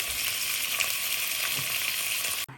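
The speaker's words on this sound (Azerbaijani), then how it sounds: "Aha, marinə edilmiş ətlərimizi qızardırıq." Marinated burger meat fries in a hot pan at home, giving a steady, close sizzle with faint crackles, cut off sharply at the end.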